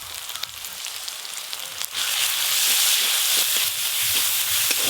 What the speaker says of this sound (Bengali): রসুন বাটা, পেঁয়াজ কুচি আর রসুন বাটা একসঙ্গে ভেজে নিয়েছি